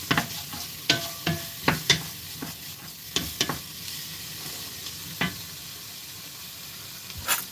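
Food stirred in a frying pan on low heat, a soft steady sizzle broken by a series of sharp scraping and clinking utensil strokes at an uneven pace.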